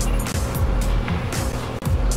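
A car drifting in an ATK racing game, a steady loud engine roar with brief dips and surging revs over about two seconds, no speech.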